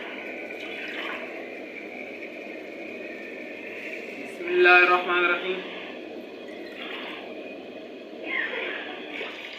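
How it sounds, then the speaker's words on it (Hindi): Water is poured from glasses into a pot of rice, a close splashing pour that swells briefly in the middle, with someone speaking over it. "मैंने इससे 6 गिलास पानी लगा दिए हैं।"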